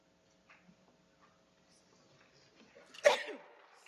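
A single sharp sneeze near the end of a quiet board of education meeting, preceded by faint room murmurs and small noises.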